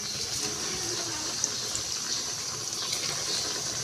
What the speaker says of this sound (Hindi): ऑयल जो है वो गर्म हो चुका है, और अब हम अपने डोनट एक एक करके इसमें डालेंगे